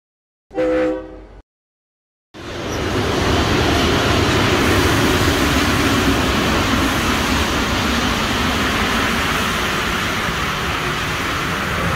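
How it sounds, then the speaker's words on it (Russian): A brief tone sounds, then after a pause a loud, steady rumbling roar of a metro train rolls on continuously. "Под землей ездит поезд метро."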